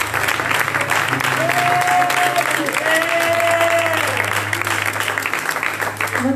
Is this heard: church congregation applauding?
yes